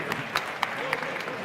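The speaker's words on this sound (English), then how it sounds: "Big round of applause." Audience applause at a World Barista Championship finals stage, a short burst of scattered clapping at moderate distance with a few sharper claps standing out.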